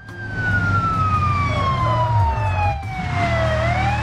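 A loud wailing ambulance siren in the video game BeamNG with a falling pitch sweep, over a steady engine drone, close and continuous, with no talking.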